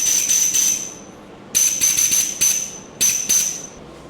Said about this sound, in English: Let's blow this thing out with some compressed air.